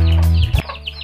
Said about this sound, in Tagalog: Ito yung mga sisiyo ko.